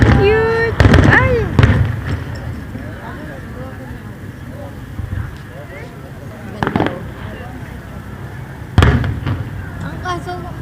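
Fireworks burst at a distance in a few separate booming pops spaced several seconds apart, with conversational voices and background chatter in between.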